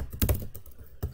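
Computer keyboard typing on a Linux desktop, a few crisp key taps close by in a quiet room, spaced irregularly across a short moment.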